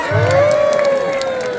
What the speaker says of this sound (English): we're going to give him a big cheer!